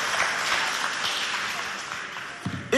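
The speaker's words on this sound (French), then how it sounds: "Voilà, applaudissez." Audience applause at a Chadian high school quiz contest, a dense, steady wash of clapping that fills the whole stretch and fades slightly toward the end before a brief voice cuts in.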